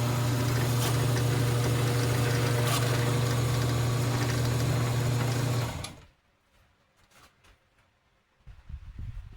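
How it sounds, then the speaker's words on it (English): A wood lathe spins a piece of wood being turned down into a knife handle, giving a loud, steady motor hum with a strong low drone for about six seconds before it cuts off, leaving near silence and faint shop noise. "plan is to just lathe this piece of wood down and start making the handle"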